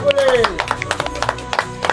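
Family members clap to cheer a game winner at home, a brisk burst of applause mixed with lively voices and laughter over the two seconds.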